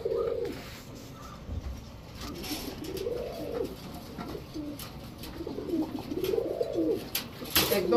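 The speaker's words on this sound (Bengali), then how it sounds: "নর কিন্তু হাতেই ডাকে" A male racing pigeon held in the hand coos at a loft, giving three rolling, throaty coos spaced a couple of seconds apart, close, with faint clicks and rustling between them.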